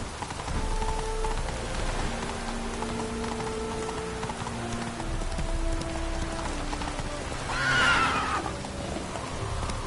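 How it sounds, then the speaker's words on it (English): A horse in the video game Witcher 3 is ridden through rain. Steady rainfall and soft hoofbeats run throughout, and one loud, close neigh rises near the end. "Whoa there, Roach. Faster."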